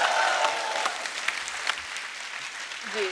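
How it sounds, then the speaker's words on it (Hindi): Studio audience of a Kapil Sharma comedy show applauds producer Ratan Jain, a dense, steady wash of clapping from a large crowd, close and loud, fading slightly toward the end. "रतन जी के लिए जोरदार तालियां।"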